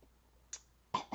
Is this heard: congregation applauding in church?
no